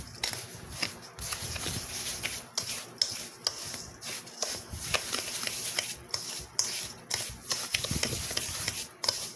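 Hands stir a dry bath bomb mixture with Himalayan salt, making a continuous close, gritty rustling and scraping with soft irregular bumps.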